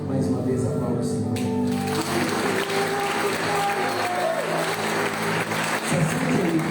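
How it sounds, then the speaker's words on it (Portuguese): Applause from a church congregation praising the Lord at a Baptist midweek service, a sustained patter of clapping mixed with voices and sustained music tones, fairly loud throughout. "Mais uma vez, aplauda o Senhor."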